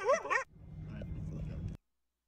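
Dog barking comes in a short run of yips and woofs at the start, followed by a quieter, muffled stretch of background sound before cutting off abruptly.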